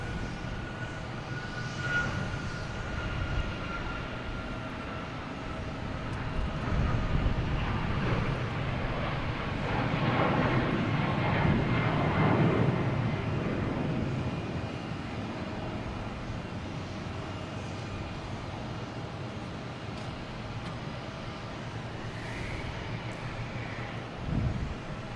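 An Alaska Airlines Boeing 737 MAX 9 passes at Boston Logan with a steady, moderately loud jet engine roar that swells in the middle and eases off, blended with faint wind noise.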